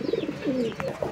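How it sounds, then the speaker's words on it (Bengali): A pair of Lotan pigeons coo on a farm, with soft throaty warbling notes rising and falling close by, repeated in a few short phrases. "এখানে রয়েছে এক জোড়া লোটন কবুতর"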